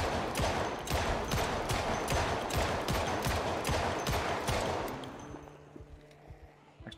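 Gunfire in the video game Project Zomboid: a rapid string of evenly spaced loud shots for about five seconds, then the firing stops and only quiet background remains.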